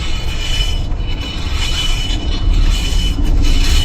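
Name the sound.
brake scraping noise from wheel of 30-year-old Subaru Loyale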